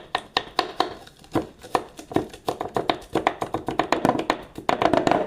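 Pork being sliced on a cutting board for Filipino humba, with a quick, steady run of sharp knife taps close by, about four per second, and no talk.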